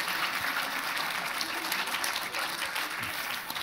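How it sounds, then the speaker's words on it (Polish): A stage event audience applauds steadily, a dense even patter of many hands clapping that holds throughout the short moment, heard from a moderate distance. "Rzeczywiście brawa."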